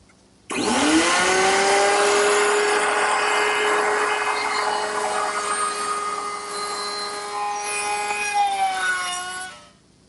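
A power router whines loudly as it cuts grooves in wood with the bit raised to 3/4 inch, a steady high-pitched motor tone with slight changes in pitch near the end, then stopping.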